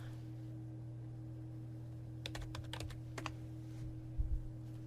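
A short burst of computer-keyboard typing, a few quick clustered keystrokes near the middle over a steady electrical hum, followed by a couple of scattered clicks.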